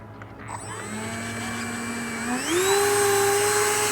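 A 70 mm electric ducted fan on an E-Flite Habu STS RC jet whines at a steady pitch close by, then spools up to a higher, louder, sharper scream that holds.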